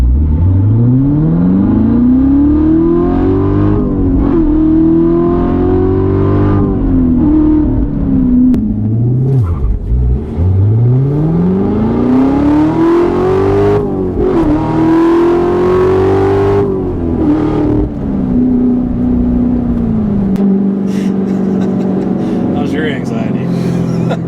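A Corvette C7 Z06 with a seven-speed manual launches from a standstill. Its loud engine climbs through repeated rising revs with brief drops at each gear change, going on throughout, while people talk over it.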